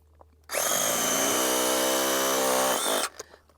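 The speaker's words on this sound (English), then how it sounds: "Now this here is just a Ryobi hammer drill." A Ryobi hammer drill busts up bedrock at an Arizona gold prospecting site, a single loud, sustained whining and rattling burst lasting about two and a half seconds before cutting off abruptly.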